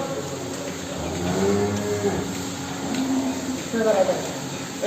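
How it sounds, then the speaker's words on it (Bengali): Large cows, bought in Punjab, low with drawn-out moos, several overlapping calls near and loud, while people talk over them. "সুন্দর সুন্দর গরু কত বড় বড় গরু নিয়ে হয়েছে দেখুন"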